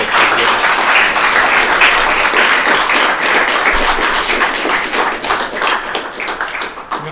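Sustained audience applause from a crowd at a live French-language presentation, dense steady clapping throughout at an even, loud level, tapering slightly toward the end.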